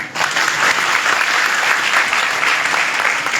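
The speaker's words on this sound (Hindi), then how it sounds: "बजाओ तालियां" An audience at a Rashtriya Bauddh Mahasabha gathering breaks into loud, sustained applause, a dense wash of many hands clapping that holds steady for the whole stretch with no voices over it.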